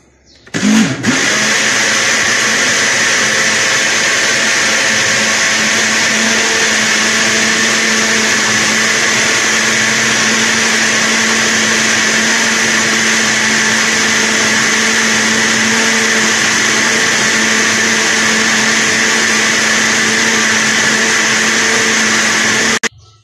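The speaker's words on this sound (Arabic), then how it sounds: "وغادي نميكسيو عاوتاني المكونات مزيان باش ما يكون لا تكتلات" A blender runs loudly and steadily, mixing apple pie batter ingredients with oil, switched on abruptly and holding a constant high whine for over twenty seconds before cutting off, with no talking.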